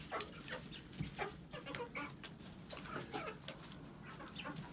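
Ameraucana and black Australorp chickens cluck and chatter softly in a backyard flock, a quiet, irregular run of short calls with no talk.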